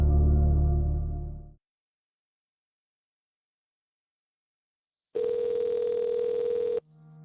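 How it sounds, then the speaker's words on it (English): Telephone tones on a recorded call from a jail correctional facility: a low buzzing tone fades out, silence follows, then a sharp, loud high-pitched tone sounds steadily for about a second and a half before switching briefly to a lower tone. "Recordings of Nikki Stain's phone calls from jail"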